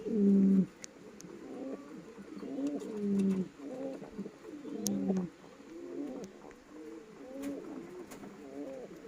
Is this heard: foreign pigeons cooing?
yes